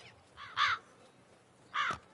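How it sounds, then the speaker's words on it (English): Crows cawing in The Witcher 3: Wild Hunt, a few harsh, rasping calls in two short bursts, heard close and clear over a quiet game backdrop. "Hello, crows."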